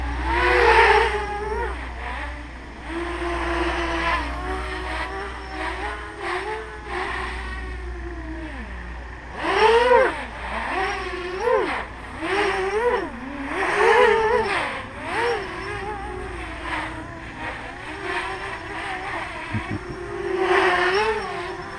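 A Simplecopter Mini T RC helicopter flies at hard throttle, its motor whining steadily and rising and falling in pitch as it climbs, loops and rolls, with no voices.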